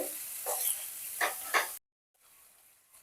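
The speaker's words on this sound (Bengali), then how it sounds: "এবার সমস্তটাকে ভালো করে একটু নাড়িয়ে নেব।" Cashew paste stirred in a kadai over a low flame gives a soft sizzle with a few scraping stir strokes for under two seconds, then near silence.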